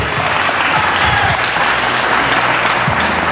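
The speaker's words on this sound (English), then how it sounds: "let's give a round of applause for two great coaches" A large crowd claps continuously, a dense, steady wash of applause that stays loud throughout.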